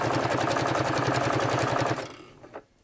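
A sewing machine stitches a fabric junk journal cover in a steady, rapid run of close, loud stitches that stops abruptly about two-thirds through, followed by a few faint handling clicks.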